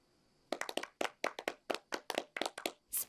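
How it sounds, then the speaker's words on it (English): A small group of cartoon characters in Sonic Boom giving half-hearted applause, a short run of sparse, uneven claps, close and clear, with no voices over it. "Spare me your half-hearted applause."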